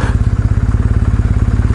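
A Kawasaki W650 motorcycle idles alone with a steady, lumpy low thump, its even pulses loud and close, running a little weak and uneven through the short stretch.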